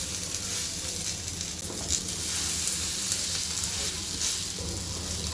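Rava toast made from semolina batter sizzles steadily in a little oil on a hot pan, a close, continuous frying hiss with faint crackles throughout.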